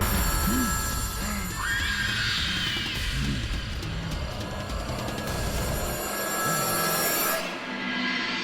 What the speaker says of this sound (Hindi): त्रिश कब से फोन कर रहा हूँ यार, फोन बंद करके बैठी हुई हो।